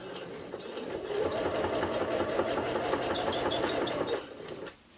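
A sewing machine back stitches a zipper pouch, its motor whirring in a fast steady stitching run that spins up, holds for a few seconds, then stops abruptly near the end.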